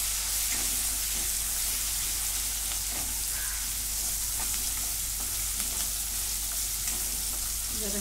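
Ginger garlic paste fries in a pan for paneer korma, producing a dense, continuous sizzle with steady stirring scrapes throughout.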